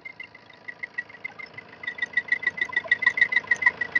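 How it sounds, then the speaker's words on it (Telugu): A 2016 Tata Zest XMS diesel engine with 113,000 km idles close by, noisy, its rhythmic knocking pulses growing louder and more distinct toward the end, with no voices. "బండి ఇక చూడండి, చాలా అంటే చాలా నాయిస్ లో ఉందండి ఇంజన్"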